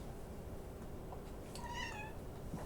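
A cat gives a single clear meow, close by and distinct, over a quiet background hum.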